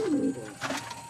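A pigeon gives a short, close coo with a falling tone, followed by softer rustling and faint chirps.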